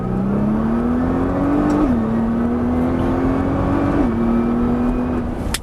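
A Nissan GT-R engine on a race circuit holding a steady drone as it accelerates, pitch climbing and dropping sharply with two gear shifts, loud and close from inside the car.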